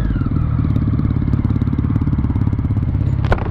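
A motorcycle runs loud and close, its engine a steady, rough harmonic drone with a slight falling pitch as it passes, and a sharp clatter near the end.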